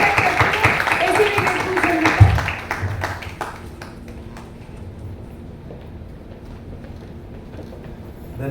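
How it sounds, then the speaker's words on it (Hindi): An audience applauds at a literary event at Hansraj College, a dense burst of clapping that swells over the first few seconds, then thins and fades to scattered claps and murmuring room noise. "तो जोरदार तालियों के साथ में स्वागत करती हूं ऐसी"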